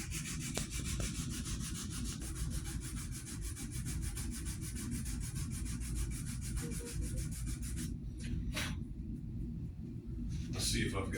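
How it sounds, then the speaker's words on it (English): Sandpaper rubs back and forth on wood in a steady, rhythmic scrape that runs loud and close for about eight seconds, then drops to brief strokes, with someone talking over it. "I could definitely use a new piece of sandpaper."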